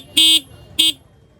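Single horn on a TVS Jupiter 110 scooter sounds in two short, loud blasts, the first about a quarter second and the second briefer, with quiet gaps in between.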